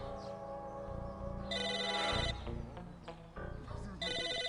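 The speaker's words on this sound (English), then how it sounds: "there's the phone" Telephone ringing in the Psychonauts video game: bursts of electronic bell trill repeat in a steady pattern over game music and ambience, loud and close, with no one talking.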